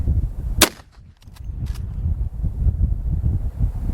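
A single sharp shot from a .357 Magnum lever-action rifle fired at a long-range target cracks out early, then rolls away as a faint echo over continuous wind noise.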